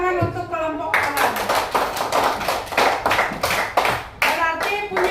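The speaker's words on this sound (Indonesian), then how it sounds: "Beri tepuk tangan untuk kelompok awan." A group of schoolchildren in a classroom clap their hands together for a classmates' group, loud, close, rhythmic claps following a voice at the start.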